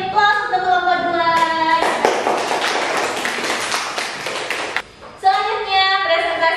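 An audience in a classroom presentation session applauds for group 2, a burst of clapping lasting about three seconds that breaks in between steady tonal sound before and after.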